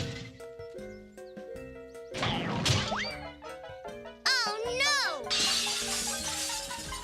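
A catapult shot in a Hello Kitty cartoon smashes a house window. Cartoon music plays, then a bright glass shatter rings out with tinkling shards, followed by springy boing-like sound effects and another burst of crashing noise.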